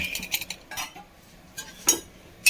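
Metal pot and utensils clink and clatter while water is drained from boiled tapioca in a home kitchen, a few sharp knocks and scrapes at irregular intervals, close and with no talk.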